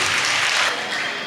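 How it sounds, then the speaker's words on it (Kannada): An audience at a Christmas celebration and cultural programme claps for Roshni, a dense, steady wash of applause that stays loud throughout and tapers slightly at the end, with no talk over it. "ಇನ್ನೊಂದ್ಸತಿ ಜೋರಾಗಿ ಚಪ್ಪಾಳೆ ರೋಶ್ನಿಗೆ"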